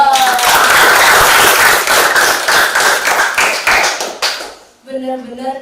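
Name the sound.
audience applause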